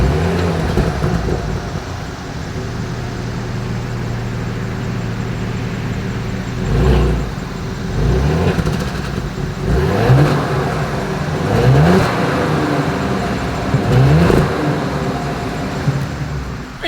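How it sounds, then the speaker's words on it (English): A 2022 Porsche Cayenne SUV engine revs several times through its exhaust, each blip rising and falling over a steady idle rumble, close by. "As always, here is that exhaust clip."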